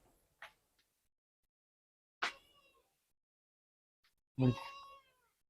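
A cat meowing in a quiet room, three separate calls spaced a couple of seconds apart, the last one loudest and longest, with no one talking.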